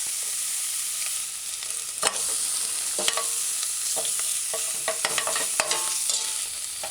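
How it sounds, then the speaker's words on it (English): Salted fish and pumpkin with onions and scallion sautéing in a pan, a continuous close sizzle with repeated spatula scrapes and taps against the pan, no voices. "Stir it in. Allow it to saute for a few seconds."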